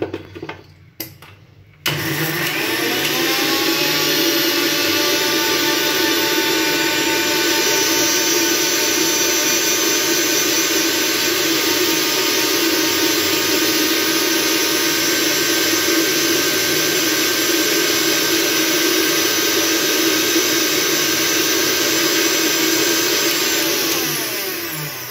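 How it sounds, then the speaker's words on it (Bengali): A kitchen blender whirs steadily, blending a watermelon and curd smoothie, with a loud, continuous motor drone after a brief stop-start at the beginning, running alone for over twenty seconds. "এটা খুব সুন্দরভাবে ব্লেন্ড হয়ে গেছে।"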